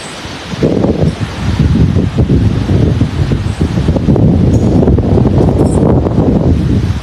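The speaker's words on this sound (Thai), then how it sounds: "ขนาดฝนตกนะครับลมแรงนะครับ" Heavy wind and rain in a storm buffet the microphone with a constant roaring rush, loud and unbroken for several seconds.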